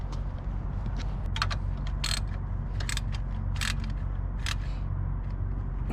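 Ratchet wrench tightening a bolt on an Acura TL engine during a rebuild, bursts of quick clicking pawl strokes repeating close up against a low background hum.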